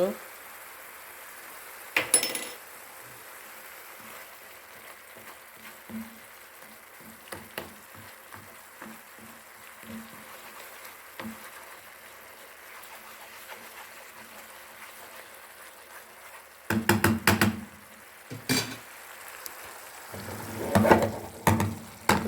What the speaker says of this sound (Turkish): Pomidorumuz qovruldu